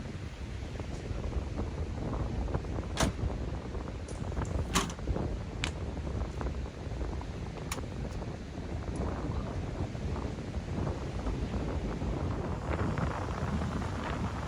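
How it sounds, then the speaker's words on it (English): Strong wind buffets the microphone on a South Texas beach, a steady loud roar with sharp gust thumps and no talking. "you're probably not going to be able to hear me. You can see how strong the wind is on my hoodie."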